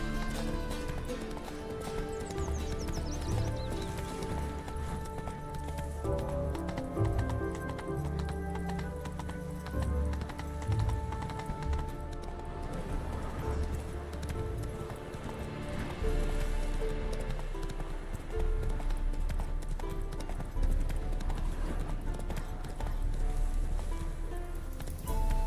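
Roach the horse galloping in The Witcher 3, steady hoofbeat clip-clop running through the whole stretch beneath game music and ambient sound, close and even.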